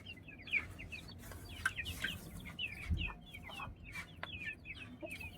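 Two Aseel hens on a rooftop cluck repeatedly in quick, chattering bursts, fairly close and moderately loud, with a few low thumps and soft background noise but no talk.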